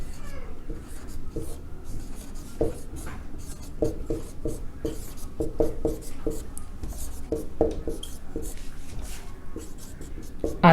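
Marker or chalk writing on a board during a Hindi biology lesson, a steady run of short scratchy strokes and taps repeating over about ten seconds, fairly close with faint room noise and no talk.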